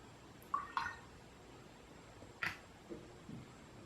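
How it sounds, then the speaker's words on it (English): A drop of water falls into watercolour paint being mixed on a palette, giving a few small, faint wet ticks and clicks close by in a quiet room. "let's add a drop of water"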